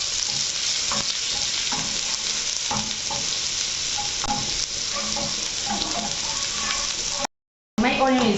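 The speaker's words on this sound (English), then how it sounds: "So adding my red onion" Red onion frying in hot oil in a pan, a steady bright sizzle with repeated scraping stirs at irregular intervals, broken by a brief silent gap and then resuming.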